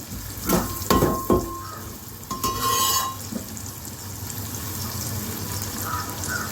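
Curry leaves, slightly dried, hit hot oil in a pan, giving a steady frying sizzle with a few clattering stirs and utensil knocks near the start.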